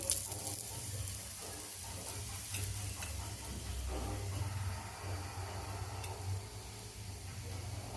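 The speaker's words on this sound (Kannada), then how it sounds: "ಈಗ ಇನ್ನೊಂದು ಕಡೆನೂ ಎಣ್ಣೆ ಹಾಕ್ತಾ ಇದ್ದೀನಿ." Aloo paratha, a Punjabi stuffed flatbread, frying in oil on a pan, giving a soft, steady sizzle with faint ticking crackles and a low hum beneath, quiet and close, without talk.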